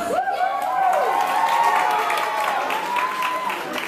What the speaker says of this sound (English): How about a big round of applause for that beautiful wedding ceremony?